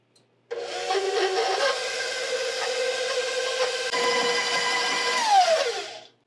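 An electric mixer whirs steadily through pecan snowball cookie dough, a loud continuous motor drone with slight wobbles that starts abruptly and winds down in pitch at the end, with no talking.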